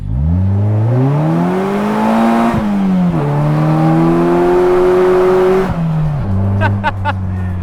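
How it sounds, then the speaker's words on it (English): A Polaris Slingshot SLR three-wheeler accelerating hard, its engine climbing loudly through the revs with two quick gear shifts breaking the rising drone, heard from on board and close, with no talking over it. "Let's put a little acceleration pull, shall we?"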